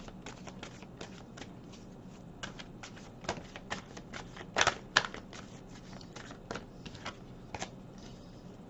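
A deck of tarot cards is shuffled in a quiet room, with soft, irregular riffling and tapping clicks and a few sharper snaps midway, with no talking.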